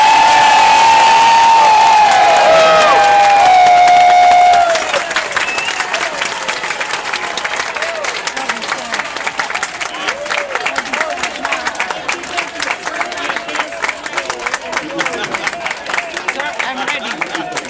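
A restaurant crowd breaks into a round of applause, a dense, steady clatter of clapping with scattered cheers that carries on for most of the stretch after a brief spoken lead-in.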